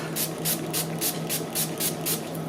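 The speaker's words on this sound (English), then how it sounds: "And we're going to spray off the top of the soap." Rapid, rhythmic hissing bursts of a spray bottle pumped repeatedly at close range onto the top of melt-and-pour soap, about eight even squirts over a low steady hum.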